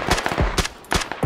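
Rapid gunfire from two teams fighting in PUBG, loud bursts of quick automatic shots with short gaps between volleys.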